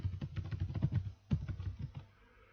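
Quick bursts of typing on a computer keyboard, close and fairly quiet, with a short pause midway before another run of keystrokes that trails off.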